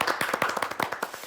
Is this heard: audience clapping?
yes